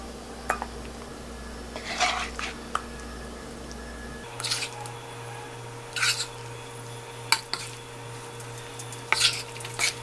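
Rainbow rice cake tteokbokki, made from leftover baekseolgi, is stir-fried in sauce in a pan, with a low sizzle under scattered scrapes and clinks of a utensil against the pan, some sharp and close, the rest quieter.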